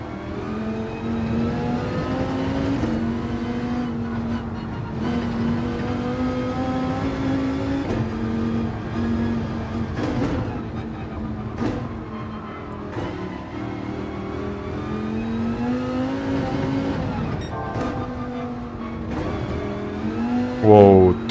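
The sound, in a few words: FR race car engine revving in Gran Turismo 7 video game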